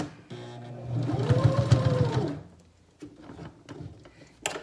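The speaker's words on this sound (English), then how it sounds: "the sound of the sewing machine" A sewing machine stitching fabric for a face mask whirs in a steady run for over a second, then stops, followed by a few soft clicks and handling noises.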